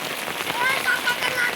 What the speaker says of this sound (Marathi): असं छान पाऊस आहे